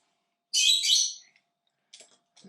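A bird gives a loud, close burst of bright chirping calls lasting about a second, followed by a couple of faint, short chirps, with nothing else sounding in between.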